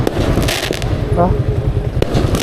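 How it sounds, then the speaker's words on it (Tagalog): Fireworks go off nearby in a rapid series of sharp cracks and bangs, with people talking and shouting excitedly between the bursts. "Alright mga kabugay, may fireworks!"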